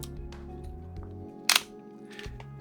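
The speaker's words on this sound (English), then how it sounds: "If you expect a whisper quiet Leica shutter, you will sadly be disappointed." The cloth shutter of a Leitz-Minolta CL rangefinder camera fires once as a sharp, fairly loud click midway, over a low steady hum.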